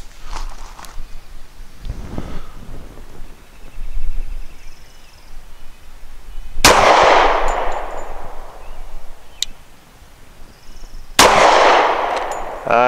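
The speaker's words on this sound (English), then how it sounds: "5 shots from 7 yards, also using that SIG Elite Performance Ammunition 230 grain ball" Two loud, close pistol shots spaced several seconds apart from a Citadel Warbird 1911 firing SIG Elite Performance 230 grain ball ammunition at 7 yards at an outdoor range, each leaving a long ringing decay, with faint clinks between.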